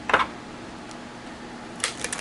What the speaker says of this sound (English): I don't know that I can riffle shuffle this.